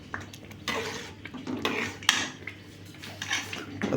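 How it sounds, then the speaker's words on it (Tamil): A spoon stirs thick rava upma in a metal pot, scraping and clinking against the sides in irregular strokes, close and fairly quiet. "இது நல்லா கிண்டி விடணும், ஏன்னா கட்டி ஆயிரும் இல்லையா, அதனால் நல்லா கிண்டி விட்டே இருக்கணும்"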